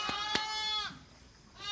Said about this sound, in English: We are moving the baby sheep over there.